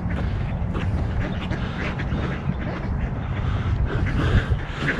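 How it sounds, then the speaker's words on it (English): A flock of ducks quacking at a park, many overlapping calls from fairly close by over steady outdoor background noise, continuous through the moment without any talking. "Man, there's a lot of ducks here today."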